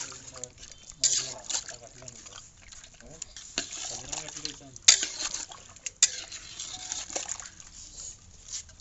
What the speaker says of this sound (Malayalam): കഞ്ഞിവെള്ളമാണ് കേട്ടോ നമ്മൾ ഒഴിക്കുന്നത്